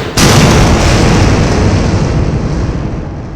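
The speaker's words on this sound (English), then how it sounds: "On the ground of Rutabaga, Zed looks up to see the distant explosion of his shuttle." Zed's shuttle blows up in an audio drama, a sudden loud blast that opens into a broad roaring rumble and slowly fades over a few seconds.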